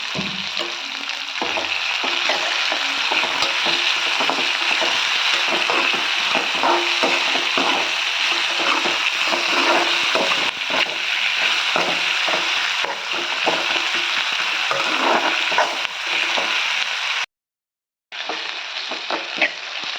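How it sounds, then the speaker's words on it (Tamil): Steady, close sizzling of onions sautéing in a pan, with frequent scraping and stirring strokes throughout; the sound cuts out briefly near the end, then resumes. "ஆனியன் நல்லா வதங்கி வந்துடுச்சு"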